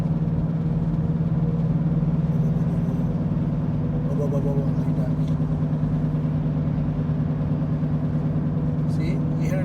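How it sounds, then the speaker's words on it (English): A worn wheel bearing on a 2014 Ford Escape driving at speed gives a steady, low droning hum with a faint rhythmic throb over road and engine noise, while someone speaks briefly. "found out last night that it was the wheel bearing. See, it looks like a helicopter, right?"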